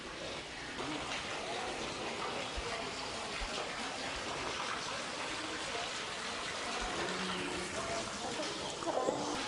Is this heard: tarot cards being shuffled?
no